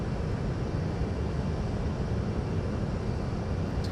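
A Lockheed T-33 Shooting Star jet in the Flight Simulator X game, a constant loud broadband engine roar with a deep rumble, unbroken throughout.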